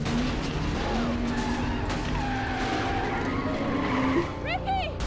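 Race cars skidding and crashing in the comedy Talladega Nights, with engines roaring, tires squealing and an impact near the end, all running under people talking.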